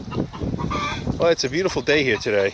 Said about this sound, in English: You wouldn't know that from this crazy chicken.